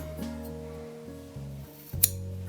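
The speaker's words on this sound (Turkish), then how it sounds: "Şunu şuradan keselim." Scissors snip through macrame keychain cord, a single sharp metallic cut near the end against quiet background music, close and brief.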